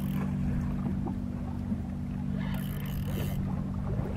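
A fishing boat motor on a reef off Scarborough, Perth, runs as a steady low drone, fairly quiet and continuous, with faint water and wind noise over it.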